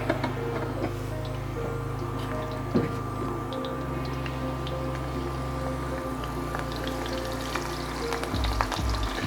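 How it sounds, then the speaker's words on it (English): Shrimp frying in a third of a cup of hot vegetable oil for pad thai, a steady, dense crackling sizzle close by with a low hum underneath and occasional small pops. "To that oil, as it heats up, we're going to add our shrimp."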